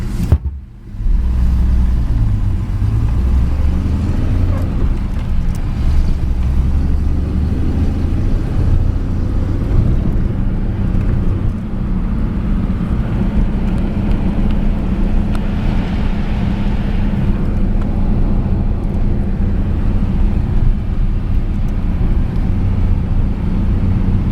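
A 1940 Packard 110 car on a test drive: steady low engine and road rumble with continuous cabin wind noise, constant and moderately loud throughout, no talking.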